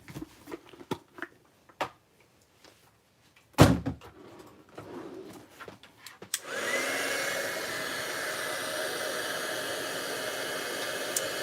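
A handheld heat tool switches on and blows a steady loud whoosh to melt gold embossing powder, preceded by scattered knocks, taps and a sharp bang from crafting handling.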